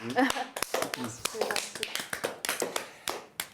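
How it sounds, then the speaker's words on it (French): Scattered hand claps from a few people, uneven and sparse, with voices talking at the start and between the claps. "Je crois qu'on peut l'applaudir."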